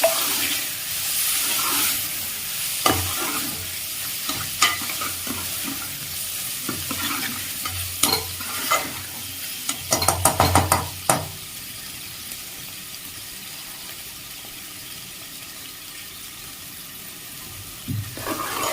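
Capsicum paneer curry cooked without oil, stirred in a pan, with soft scraping and stirring strokes and a low sizzle, then a burst of brisk clattering stirs partway through before it settles back to gentle cooking sounds.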